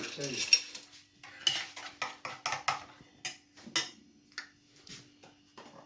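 A metal spoon clinks and scrapes rhythmically against a bowl, stirring kefir into pancake batter, a steady series of stirring taps with a faint voice now and then.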